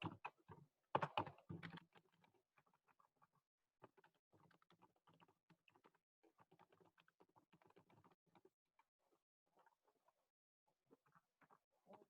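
Someone types on a computer keyboard in irregular bursts of close, crisp key clicks, busiest at the start and then sparser, with quiet gaps between them.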